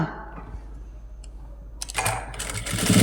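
Sewing machine stitching a blouse joint, quiet at first, then running steadily and close for the last second or so, growing louder toward the end.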